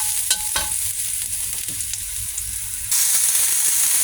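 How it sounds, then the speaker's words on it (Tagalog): Garlic sautéing in a hot pan toward golden brown, a steady close sizzle with a few stirring clinks, the frying hiss growing brighter and louder partway through. "Gigisahin natin yung bawang. Para mag-golden brown siya."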